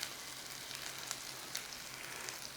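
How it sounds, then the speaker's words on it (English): Steady, close sizzling of spices and ginger frying in hot oil for South Indian ven pongal, with faint crackles and pops over a continuous hiss. "Nice little sizzle whizzle on there, look."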